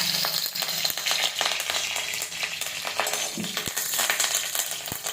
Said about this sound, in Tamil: இப்ப நம்ம 3 வரமிளகாய் சேர்த்திக்கலாம். கருவேப்பிலை ஒரு கொத்து சேர்த்துக்கலாம்.